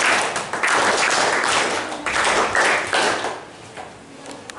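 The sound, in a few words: audience applause for a student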